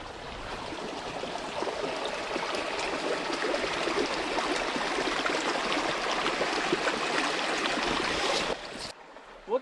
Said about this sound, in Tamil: தண்ணி நீட்டாக ஃப்ளோ ஆகுது.